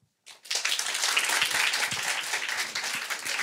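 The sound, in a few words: audience applause vote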